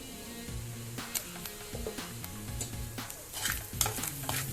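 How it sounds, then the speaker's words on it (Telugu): Egg fried rice seasoned with garam masala, salt and chilli is stirred in a sizzling pan. A soft, continuous fry runs underneath while a utensil scrapes and taps the pan in repeated strokes, close but quiet, with no speech. "ఇవన్నీ బాగా కలిసేలాగా కలుపుకోవాలి."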